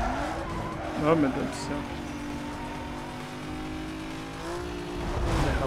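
A car skids in the racing game Need For Speed Most Wanted, with a long tire squeal over a steady engine drone, loud and continuous, while a man exclaims over it.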